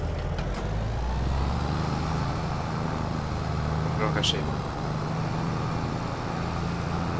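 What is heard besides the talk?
tractor engine in video game Farming Simulator 22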